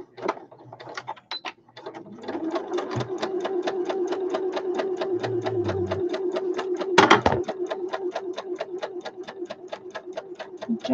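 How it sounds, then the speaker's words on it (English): A sewing machine runs a steady stitching pass along a fabric basket, sewing two lines of stitching near the edge; rapid even clicking pulses hold for about eight seconds after brief handling noises, pausing once then resuming. "I'm just doing 2 lines of stitching at the minute."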